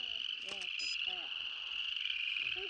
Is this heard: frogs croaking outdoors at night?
yes